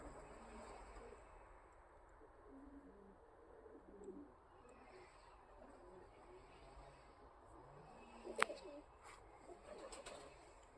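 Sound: racing pigeons taking off and cooing

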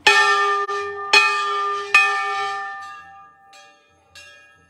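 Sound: large temple bells ringing at Chitai Golu Devta temple

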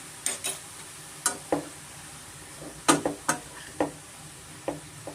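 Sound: grated carrot frying in ghee

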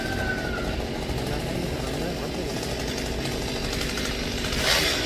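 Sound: small chainsaw cutting a royal palm tree

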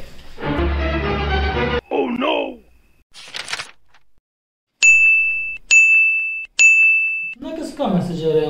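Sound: phone message notification chime

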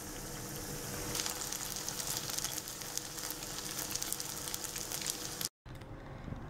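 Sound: banana fritters (Pazham Porri) frying in oil

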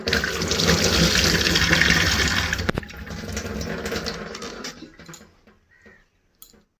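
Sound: washing Indian pennywort (thankuni) leaves in water

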